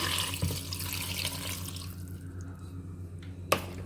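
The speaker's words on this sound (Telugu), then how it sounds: "ఇప్పుడు మనం రెడీ చేసుకున్న మజ్జిగ ఉంది కదా, దాన్ని కూడా ఇందులో వేసేసుకుందాము." Buttermilk poured into a pan of ladyfinger (bhindi) curry, a close liquid splashing and gurgling that tapers off, followed by a sharp clink near the end, no voices.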